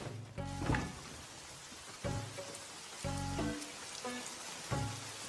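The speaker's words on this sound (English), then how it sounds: "it's raining out here." Rain patters steadily outside in an anime scene, a soft continuous hiss broken by several duller knocks and thuds at irregular intervals, with no talking.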